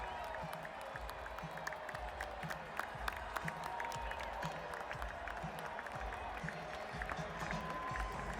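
A large crowd of around 47,000 fills the Oakland Coliseum at the A's final baseball game there, a dense, steady roar of applause and cheering from all around, with a commentator's voice faintly underneath.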